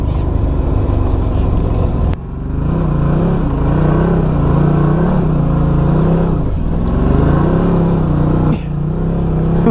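A Can-Am Maverick Sport XXC side-by-side climbs a rough, rocky trail with steep pitches, its engine droning loud and close with repeated swells of throttle and brief dips between pulls.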